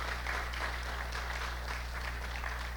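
An indoor club audience claps after a talk, a short dense burst of moderate applause at steady level.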